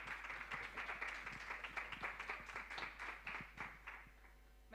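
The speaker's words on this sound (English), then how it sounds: "A round of applause." Conference audience applauding at a business event on circular economy, a moderate, steady patter of many hands clapping with distinct individual claps, fairly quiet and continuous throughout.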